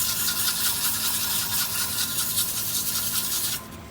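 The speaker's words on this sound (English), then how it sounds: "We'll sand this top ledge just a little bit so it's nice and flat when I go to put it in the chuck." A wooden bowl's top ledge is sanded by hand with coarse 60 grit sandpaper, giving a steady close scratchy rubbing for about three and a half seconds before it stops abruptly.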